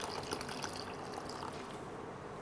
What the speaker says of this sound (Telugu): సో కాబట్టి ఇంకొంచెం వాటర్ వేద్దాం.